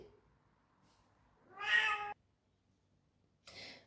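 A pet cat meows once clearly and fairly close, a single drawn-out call, followed after a pause by a shorter, fainter sound in an otherwise quiet room.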